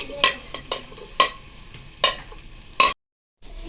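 Spoon or spatula stirring chopped onions in a hot pan with sizzling oil in the background, several scraping strokes at a steady pace, then a brief silence.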